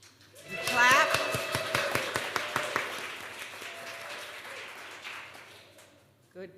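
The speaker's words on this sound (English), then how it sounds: "If you do, you can cheer and clap." A church congregation at a Unitarian Universalist service breaks into cheering and clapping, with a sharp whoop near the start, then quick claps that peak early and fade out over several seconds.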